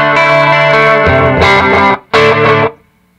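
An electric guitar played through an ADINEKO echo pedal with its reverb switched off, loud distorted chords with a few short repeats that cut off abruptly and quickly die away.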